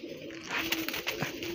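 Female pigeon cooing softly at close range, a few low, brief coos over faint background noise.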